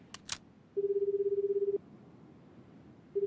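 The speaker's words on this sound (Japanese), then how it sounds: "3度の呼び出し音で出なかったので仕方なく電話を切った" Ringback tone of a phone call in the video game 428: Shibuya Scramble: a steady electronic ring burst about a second long, then a pause and the start of another, clear and alone.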